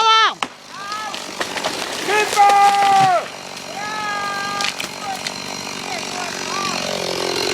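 A chainsaw cuts wood, its engine rising and falling in pitch through several revving bursts, close and loud, with voices and outdoor noise around it.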